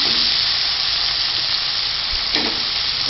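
Tomatoes and onions sautéing in a covered pan for Madurai kothu parotta give off a steady, dense sizzle that holds evenly throughout, close and unbroken, with no voices.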